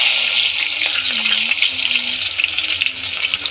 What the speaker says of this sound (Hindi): तो मैं इन लोगों को डाल देती हूँ तेल में, तेल मैंने चढ़ा दिया था।